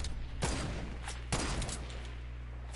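Sniper gunfire in the Fortnite video game during a squads match: two loud sharp shots about a second apart, then a third burst at the end, over steady game background noise.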